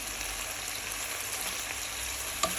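Chicken breast pieces frying in a pan, a loud continuous close sizzle with a brief utensil knock as they are turned near the end.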